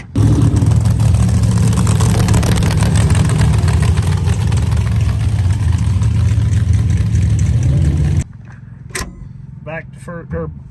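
A nostalgia drag racing car's engine idles loud and close with a heavy, steady rumble that cuts off abruptly near the end, leaving a brief quieter stretch with faint voices.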